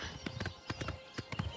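A short run of hoofbeats from a horse in Oblivion Remastered, crisp and near, falling in quick uneven clusters of taps over a soft low background.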